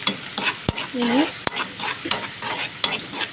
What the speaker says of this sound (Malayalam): ഇനി നന്നായിട്ടൊന്ന് വഴറ്റിയെടുക്കുന്നു